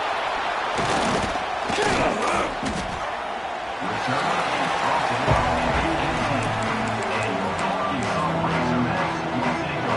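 A stadium crowd at an Arkansas Razorbacks college football game produces a steady, dense roar, with thumps and bursts of cheering throughout, while a commentator talks over it.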